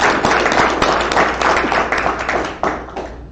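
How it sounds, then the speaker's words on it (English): Meeting audience in Boston applauding a colleague, a dense steady wash of many hands clapping close and loud throughout, tapering slightly near the end. "Please clap for Kara"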